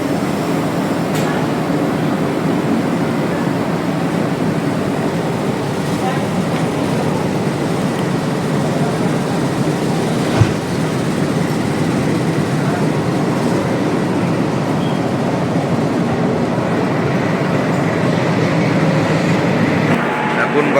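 A train pulling out of Sealdah station at night rumbles loud and steady from inside the carriage, a continuous close roar with faint rattles throughout.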